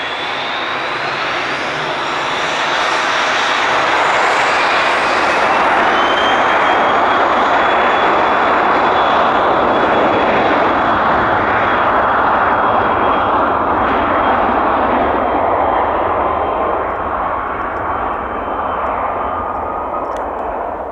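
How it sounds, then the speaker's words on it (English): Light aircraft and business jets take off from a runway at Spirit of St. Louis Airport. A loud, sustained engine roar builds to a peak and then slowly recedes, with a rising whine over it and no speech. "Romeo Lima, fly runway heading, runway 26 left, clear for takeoff."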